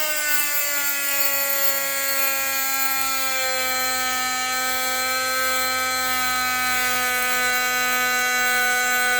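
A power tool polishing out a bar code on a Colt Python's metal gives a steady, loud high-pitched whine with a slowly falling pitch, running continuously and alone throughout.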